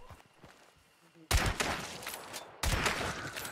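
Gunfire from flick shots in the video game Hunt: Showdown, two loud, sharp gunshots with lingering echo tails, each following a quieter stretch of faint background ambience.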